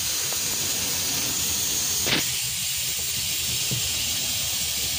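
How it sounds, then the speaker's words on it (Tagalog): Steady broadband hiss of escaping air runs throughout, loud and continuous, with a brief sharper burst near the middle. "Tire leak nga. Ay, tire leak."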